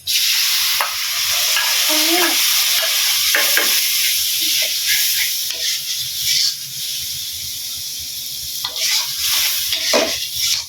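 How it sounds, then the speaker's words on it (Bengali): Onion paste, green chili paste, turmeric, chili powder and salt being sautéed together, a loud close sizzling hiss with stirring scrapes that eases and swells again near the end. "পেঁয়াজ বাটা কাঁচা কাঁচামরিচ বাটা আর হলুদ মরিচের গুঁড়া লবণ আছে এখন একসাথে কষাই নিতেছি"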